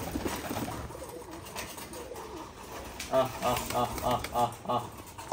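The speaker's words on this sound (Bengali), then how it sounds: "কবুতরগুলো দেখেন চাউল খাচ্ছে কত মজা করে।" Domestic pigeons at a flock, feeding on rice, with soft coos and bird calls rising in the second half amid a busy, noisy background and some nearby talk.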